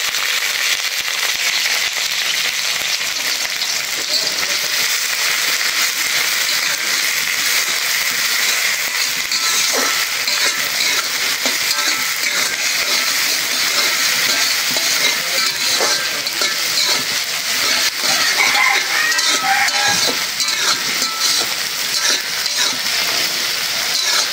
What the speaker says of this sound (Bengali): তেলটা গরম হয়ে গেছে, দিয়ে দেই রসুন, পেঁয়াজ, কাঁচামরিচ,